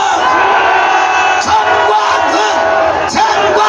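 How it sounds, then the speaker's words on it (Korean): A large crowd at a political rally roars, shouts and cheers in one loud, sustained wall of voices, with brief dips in the noise. "전광훈 목사님을 향하여 함성!"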